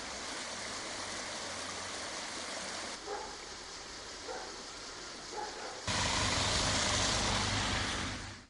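The flooded Sukhumka river, burst from its banks, rushes through town streets as a steady, dense roar of water that grows louder and fuller near the end.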